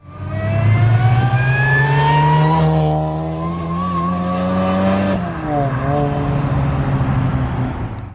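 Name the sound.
supercharged Honda RSX Type S engine with supercharger whine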